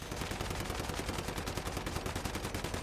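Sustained rapid automatic gunfire from a high-damage shrapnel weapon build in Once Human, a continuous loud stream of shots with no pauses.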